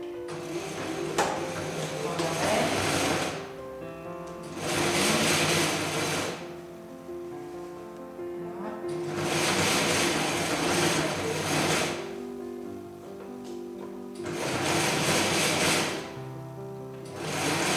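Sewing machine stitching two pieces of fabric edge to edge for a piped welt pocket, running in four loud, steady bursts of several seconds each with short pauses between them.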